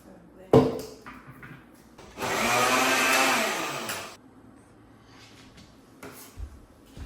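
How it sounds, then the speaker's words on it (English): Food spins in a blender during a single loud burst of about two seconds. Soft kitchen clatter and knocks come before and after it. "I keep something in here so it'll be easy to blend."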